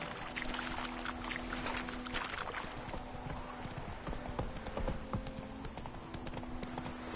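Horse hooves clip-clopping in a steady trot in a video game, a continuous rhythmic patter over faint ambient background.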